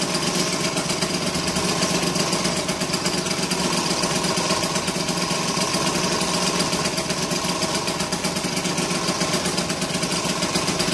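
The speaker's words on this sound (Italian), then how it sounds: "Sentite il sound del portatarga che vibra" Steady buzzing rattle of a running 70cc Zip SP scooter, its license plate holder vibrating with a rapid, constant vibration, close by and continuous with no talk.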